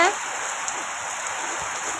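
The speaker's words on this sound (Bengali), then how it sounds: "এখন দেখো কত জোরে বৃষ্টি হচ্ছে" Heavy rain pouring down at five in the evening under a dark sky, a dense, even roaring hiss that stays loud and unbroken for the whole moment.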